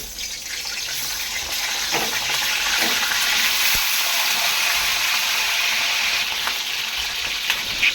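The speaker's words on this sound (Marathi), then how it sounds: "वांगी चांगली तेलामध्ये 3 ते 4 मिनिट परतून घ्यायची आहे" Eggplant pieces sauté in hot oil in a wok, giving a steady, loud sizzle and crackle that holds for the full stretch with faint stirring scrapes, and nobody speaks.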